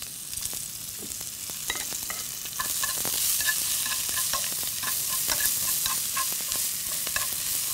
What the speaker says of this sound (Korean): 부추를 이렇게 볶아주세요